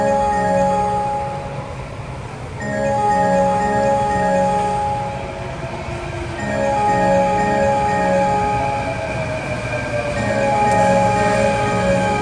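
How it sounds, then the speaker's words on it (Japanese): A Kyoto subway 3220 series train bound for Takeda pulls into Kuramaguchi station, a steady rumble with tonal motor whine and brake hum rising and falling, station announcement chimes faintly mixed in. "ただいま一番乗り場に到着の電車は武田行きでございます。"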